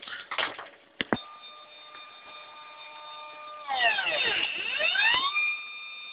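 Meade 10-inch telescope mount motors slewing, a high whining electronic tone that holds steady and then rises and sweeps as the axis moves, close and fairly quiet, with a few sharp clicks.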